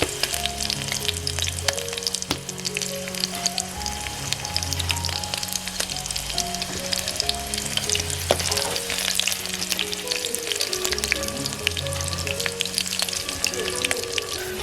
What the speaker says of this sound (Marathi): तेल टाकलंय आणि वरून आता लसूण टाकले बघा कढीपत्ता हिरव्या मिरच्या